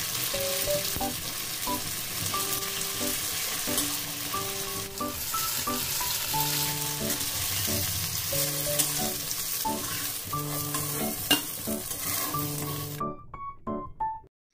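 Soya paneer pieces fry in a little oil in a kadai, giving a steady, close sizzle that runs unbroken for most of the stretch while background music with sustained notes plays over it, then it cuts off sharply near the end.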